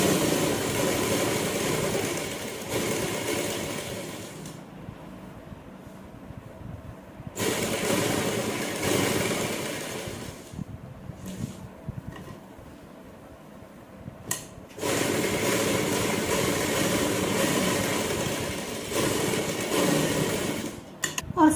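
A sewing machine stitches an umbrella frock close beside its paper pasting, running in long steady whirring bursts separated by quiet pauses, close and alone.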